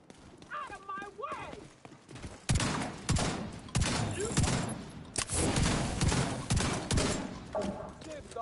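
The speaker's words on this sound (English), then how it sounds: "Oh, we about to pump shotgun some people" Heavy pump-shotgun blasts and gunfire in a first-person shooter game, several loud bursts after about 2.5 seconds, with a voice talking briefly at the start.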